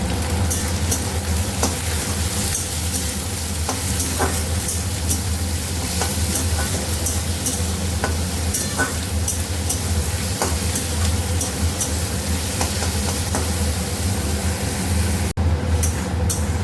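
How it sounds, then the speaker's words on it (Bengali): Onions fry in a pan with a steady, close sizzle, punctuated by scattered scraping and tapping as a utensil stirs them, continuous throughout with no voices. "পেঁয়াজটাকে ভালো করে একটু ভেজে নিই"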